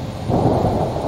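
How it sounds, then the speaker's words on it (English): A rainstorm with rolling thunder in the video game A Plague Tale: Requiem, a steady broadband roar of rain with a low thunder rumble swelling after a brief quieter start, continuous and close, no voices. "The rain is getting worse."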